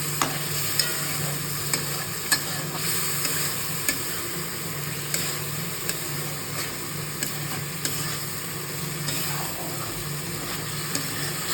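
Spice paste sautéing in a pan, a steady sizzling hiss with regular scraping stirs of a spatula repeating every second or so, close and continuous with no talking.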